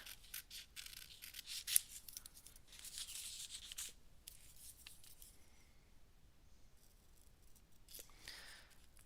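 Scissors snipping through paper up close, a run of quick quiet cuts and rustles, then softer intermittent snips.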